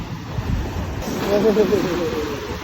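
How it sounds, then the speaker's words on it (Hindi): Sea waves wash in under wind noise, a broad rushing surge that builds and peaks midway, with faint voice-like tones near the crest. "ये आ रही है ये लहर"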